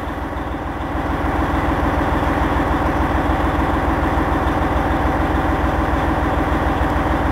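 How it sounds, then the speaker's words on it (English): Kenworth T600 truck engine idling at 650 RPM, a steady low diesel rumble with an even pulsing beat, loud and close, running unchanged without talk. "This is idle. That's 650 RPMs."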